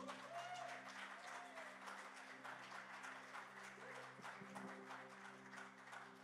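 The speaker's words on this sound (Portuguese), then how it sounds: "convido com emoção uma salva de palmas ao pastor Jadson" Applause at a Sunday morning church family conference service, honoring the pastor: a steady, fairly faint round of clapping from the congregation that holds through the whole stretch, with sustained organ or keyboard tones beneath it.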